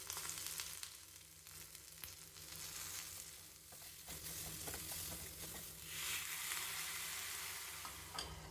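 Tomato chutney frying in a pan for dosa, a soft steady sizzle with occasional stirring and light spattering, quiet and close, no voices.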